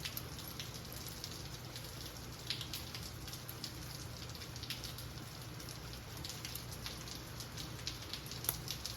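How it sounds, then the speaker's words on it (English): Light rain falls steadily outside a leather workshop, a soft continuous patter with scattered sharper drops, even and unbroken throughout. "It's raining a little bit outside"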